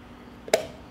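A freshly cooked, still-hot vacuum-sealed jar of goulash gives off a single sharp pop as its lid opens, in an otherwise quiet room.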